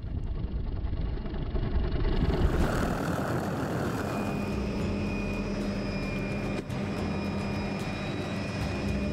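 Steady helicopter engine drone with a whining turbine tone, growing louder after a couple of seconds and holding constant, no voices.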